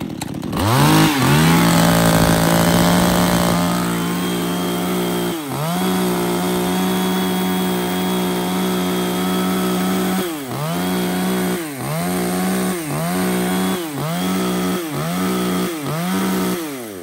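A Japanese G4 chainsaw runs loud and close, holding a steady high idle before revving repeatedly in a series of rising and falling bursts, with no talk.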